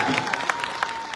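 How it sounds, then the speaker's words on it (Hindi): Crowd at a political blessing gathering in Haryana clapping for arriving guests, a dense but fairly soft patter of many hands. "जोर से नारायण सिंह का हाथ छोड़ के उनकी ताली बजाना"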